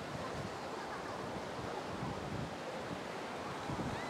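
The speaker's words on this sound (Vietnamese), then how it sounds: "Trời ơi, gió mạnh đi." Sea waves wash onto the beach at Phan Ri Cua, Binh Thuan, in the late afternoon while strong wind buffets the microphone. A constant loud rush of surf and wind continues throughout, with no clear talk.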